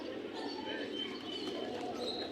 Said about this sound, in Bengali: এখানে কিছু কবুতর আছে